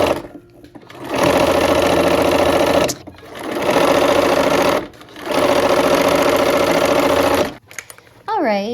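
A sewing machine stitches a final seam in three sustained, steady runs of buzzing motor and needle, each lasting a couple of seconds with brief pauses between, close and loud.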